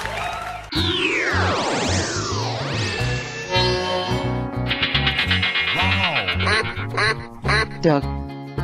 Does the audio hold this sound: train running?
no